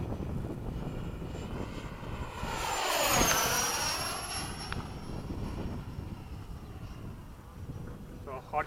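A solo F-104 jet roars past on a high-speed pass at Bayside, its engine noise swelling to a loud peak midway and then sweeping down in pitch as it recedes.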